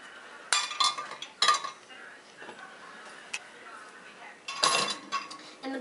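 Dishes and plates being loaded into a dishwasher at the sink, with a few sharp ceramic clinks and clatters spaced apart over quiet room tone as someone talks.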